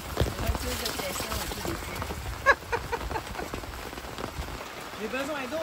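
Rain patters steadily on a campsite at Parc régional de la Rivière Gentilly, a close, dense hiss of drops on surfaces with a few sharper taps, while people talk over it.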